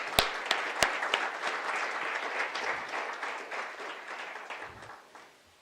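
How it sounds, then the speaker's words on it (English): Steady applause from an audience at an ethnic, gender and transborder studies summit, a dense crowd clapping with a few sharp claps up front, gradually thinning and fading out near the end. "Can we give both of them a round of applause?"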